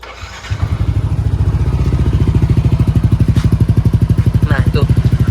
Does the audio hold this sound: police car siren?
no